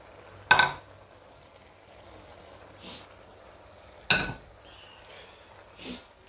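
Aubergine and potato pieces in a pan, stirred now and then: two sharp scraping strokes a few seconds apart, each trailed by a softer shuffle, over a faint low background hiss.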